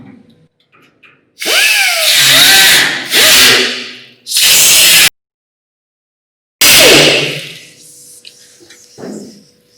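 A power tool grinds loudly into metal in several bursts, cutting back a lip to prepare a windshield mount in a garage, with a few seconds of silence between cuts and faint clatter at the end.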